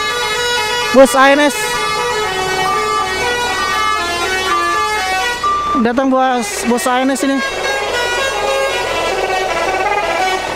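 Musical telolet horns of long-distance buses at Poris bus terminal in Indonesia play sustained, melodic tone runs that blare loudly and nearly continuously, with someone talking over them.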